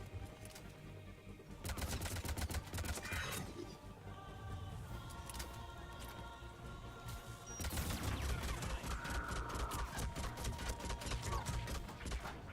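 Video game gunfight with dense, rapid automatic fire, bursts overlapping into a continuous rattling fusillade across the whole stretch, loud and close, briefly easing before a heavier volley resumes.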